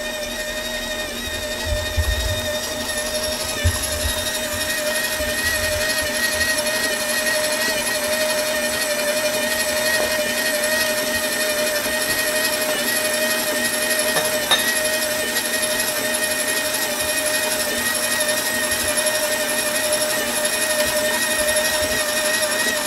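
An electric stand mixer beats cinnamon roll batter with a steady, high, whining motor drone that holds unchanged for the whole stretch, with a low rumble briefly near the start.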